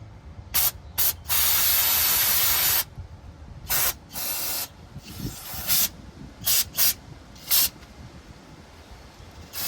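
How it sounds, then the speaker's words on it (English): O'Reilly's brake part cleaner sprayed on a car part in a workshop: a series of loud, close aerosol hisses, one long burst followed by several shorter ones, with no talk. "We got some O'Reilly's brake part cleaner."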